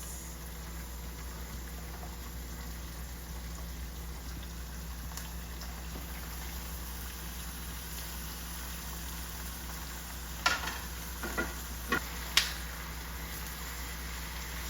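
Tomatoes and spices frying with a bay leaf in a small pot for Cameroonian Poulet DG chicken: a quiet, steady sizzling hiss, then a few sharp pops close together near the end.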